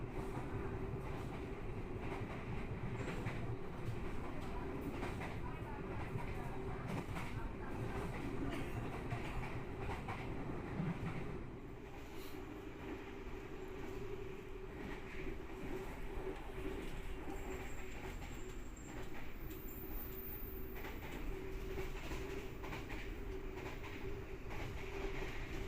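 The KA Blambangan Express passenger train runs along rails beside the Java Sea, with a continuous loud rumble and rhythmic wheel clatter, and a faint high squeal of the wheels partway through.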